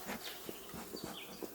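Honeybees buzzing around a freshly opened hive of a new-season swarm, a soft, close, wavering drone with brief louder passes of individual bees.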